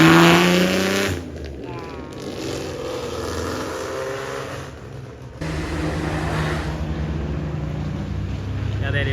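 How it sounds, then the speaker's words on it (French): A Ferrari 250 Testa Rossa engine on the road roars loudly, then the level drops and rises again as the car moves past, a throaty rumble with shifting pitch. "Oh, le bruit qu'elle fait, la Testarossa."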